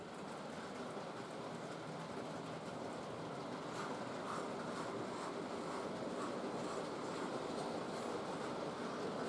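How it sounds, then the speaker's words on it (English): A model railway train, the LNER Scotch Goods hauled by a V2 locomotive, runs continuously past in a 1938-era layout scene, giving a steady broadband rumble and rattle of wheels on track with no voices. "The Scotch Goods was a famous train, fast Green Arrow service introduced in the mid-30s by the LNER."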